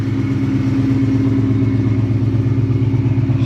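Mellow, deep exhaust rumble from a 1979 Fox-body Pace Car with a supercharged Coyote V8, heard up close as a steady, loping low burble with a slight rhythmic pulse.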